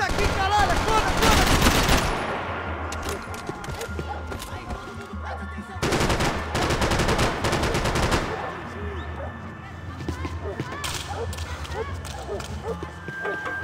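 Automatic gunfire in the Max Payne 3 video game, loud rapid bursts of shots in two main volleys with quieter sporadic firing between, under and around shouted voices.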